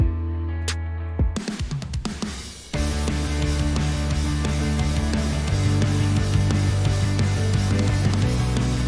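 A pop punk beat processed with Soothe starts with a sparse intro, then a full, loud, dense band mix of drums, guitars and bass kicks in and drives steadily to the end.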